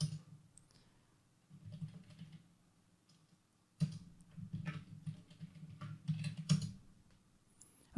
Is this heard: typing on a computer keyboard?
yes